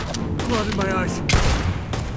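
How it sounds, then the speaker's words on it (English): Gunfire in the space game Starfield during a firefight on an asteroid, a few loud, sharp shots and a burst over constant background rumble, with a voice speaking during the exchange. "We're shooting."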